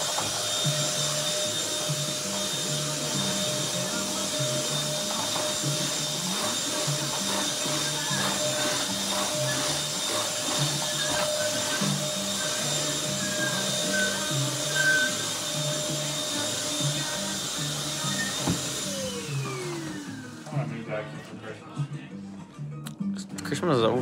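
Vacuum cleaner running steadily in a dorm room, working over a dirty rug, a loud continuous whine and motor drone that holds for about twenty seconds before shifting and sputtering near the end, with a voice briefly heard.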